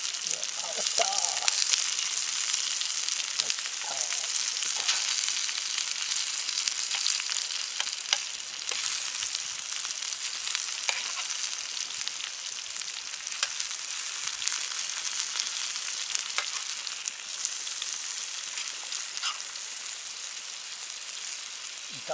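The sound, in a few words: stir-frying food in a pan over a campfire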